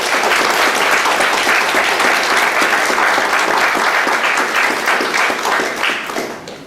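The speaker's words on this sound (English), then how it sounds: "Once again, give them a big round of applause." A packed audience gives a loud, continuous round of applause for the rankers, a thick, steady wall of clapping close by that holds evenly and tapers slightly at the very end, with no talk.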